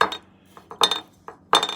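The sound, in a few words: clink test tapping vintage toy figure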